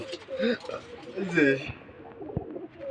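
Giribaz pigeons coo at a Rajshahi pigeon farm, several soft, throaty rolling coos rising and falling close by, with people's voices talking around them.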